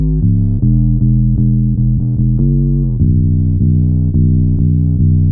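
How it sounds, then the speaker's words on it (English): Bass played through a Darkglass KAAMOS octave pedal set to sub-lemon monophonic flip mode, a thick sub-octave layer under a repeating riff of plucked notes, loud and up front with no voices. "The sub-lemon, which is a monophonic flip type and sounds like this."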